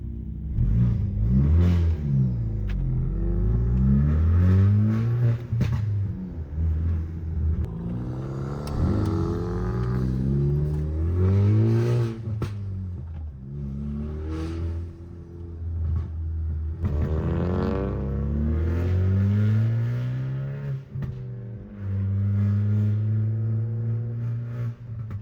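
Ford Focus ST cars cruising together, a steady loud engine rumble with repeated revving rises and gear changes, close and continuous with no talk over it.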